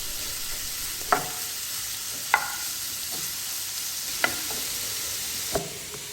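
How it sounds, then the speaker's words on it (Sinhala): Small chicken pieces frying uncovered in olive oil give a steady, bright sizzle, with a few sharp clicks and pops scattered throughout; no voices. "මූඩිය වහන්න නැතුව හොඳට දෙපැත්තෙන් ෆ්‍රයි වෙන්න දෙන්න."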